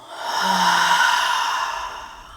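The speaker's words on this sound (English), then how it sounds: "take a deep breath in. Ha, H-A-W." A single deep breath drawn in and let out as a long, audible, breathy exhale, close and alone, rising then slowly fading.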